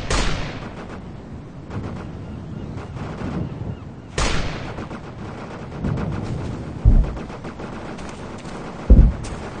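Artillery fire mission in the video game Operation Flashpoint Dragon Rising: a steady roar of distant shelling and gunfire, with sharp booming impacts and a couple of deep, heavy blasts near the end.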